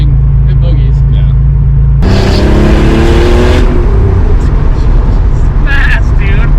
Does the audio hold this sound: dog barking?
no